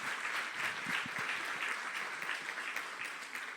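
An audience at a women's discussion panel gives steady applause, an even patter of many hands heard from a moderate distance, slowly easing off toward the end.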